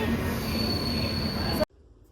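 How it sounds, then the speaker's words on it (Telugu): Loud, steady rumble of a train at a platform with a faint high whine, cutting off abruptly to near silence near the end. "మా ట్రైన్ అయితే వచ్చేసింది"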